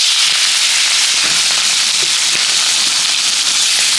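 Prawns dropped into hot mustard oil in a wok give off a dense, loud, continuous crackling sizzle, close and unbroken throughout.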